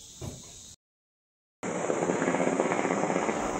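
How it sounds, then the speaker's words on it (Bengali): A helicopter flies over the mountains toward Kedarnath near Ukhimath, giving a steady, full engine-and-rotor drone after a short silent gap. "হেলিকপ্টার উড়ে যাচ্ছে, এগুলো সব কেদারের দিকে যাচ্ছে, কেদার পাহাড়ের দিকে"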